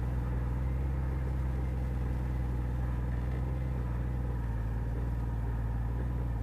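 A big motorcycle rolls slowly in first gear, its engine holding a steady, loud, close low rumble throughout.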